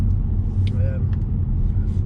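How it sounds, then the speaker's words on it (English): A car drives along a road through woods, its steady low engine and road rumble filling the interior, with a person talking briefly over it. "Been driving for about 5 minutes now."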